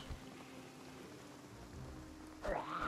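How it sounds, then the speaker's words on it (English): Rain falls in the video game Project Zomboid as a faint, steady, even hiss throughout, with a brief rising tone sweeping in near the end. "Rain is now lightening up a bit."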